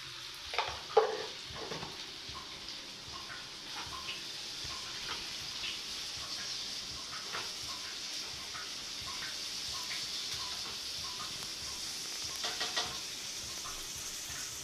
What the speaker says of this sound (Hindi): ये छोले भुने जा रहे हैं दुआ की फरमाइश पे